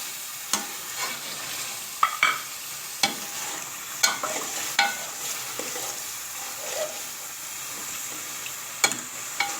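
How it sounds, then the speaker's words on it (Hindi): Tamarind pulp, green chillies, coriander and tomatoes are stirred in a pot for biryani. Sharp spoon clinks and scrapes come at irregular intervals over a soft sizzling bed, with no talking. "अब हम इसमें इमली का पल्प डाल देंगे, अच्छी तरह मिक्स करेंगे।"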